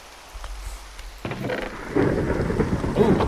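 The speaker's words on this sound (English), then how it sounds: "Ooh, thunderstorm." A thunderstorm in the video game Minecraft: a low rolling thunder rumble, then steady rain that sets in abruptly and grows heavier and closer toward the end, with no one talking.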